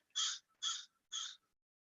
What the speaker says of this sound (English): We've got a little crow visiting us.